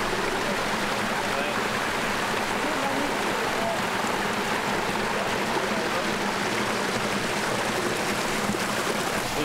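Creek water on a plantation rushing steadily, a dense continuous wash of flowing water close by, unchanging throughout.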